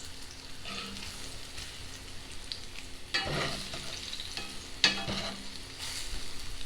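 Plantain slices frying in a pan in hot oil, a continuous fine sizzle with brief louder bursts as pieces are moved or flipped, close and alone without talk.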